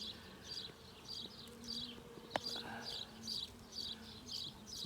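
Honeybees buzz softly around an open package hive, eight weeks old, during an inspection of capped brood, a faint, wavering hum with bursts of flight buzz pulsing in and out, plus one sharp click of equipment.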